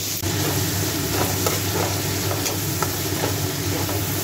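Chopped onion fries in ghee and oil, a loud, continuous close sizzle with occasional stirring scrapes and a faint steady hum beneath.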